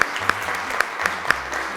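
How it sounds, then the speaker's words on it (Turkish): A studio audience on a children's game show applauds both competing teams, steady clapping with a few sharper claps standing out. "Alkışlıyoruz iki grubumuzu da."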